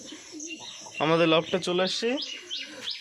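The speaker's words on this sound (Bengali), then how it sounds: "এখন আমরা পায়রা ওড়াবো।" Loft pigeons, mostly Gerewaz with a few Madras birds, coo close by in a few rounded, throaty bursts, joined by faint chirps.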